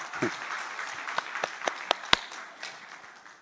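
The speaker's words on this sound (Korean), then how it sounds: "또 박수" Scattered clapping from a church congregation during a Sunday sermon, a handful of sharp individual claps standing out over a soft bed of hands and murmuring voices.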